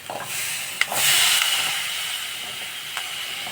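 Cooked chickpeas tipped into a hot pan with spices for chana pulao, a soft hissing sizzle rising as they land, with a few scraping stirs and faint clicks against the pan.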